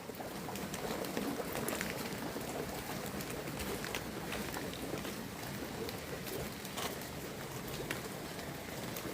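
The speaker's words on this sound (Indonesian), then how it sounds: "Tuh, ini hujan lagi ya, gerimis-gerimis mengundang." Light drizzle patters steadily and evenly outdoors on a home farm, a soft continuous hiss of fine drops with no talk.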